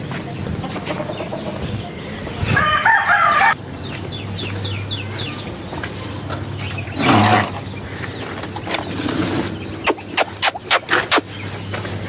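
Chickens clucking in a yard, with several short sharp squawks and bursts of clucking, and a person talking nearby.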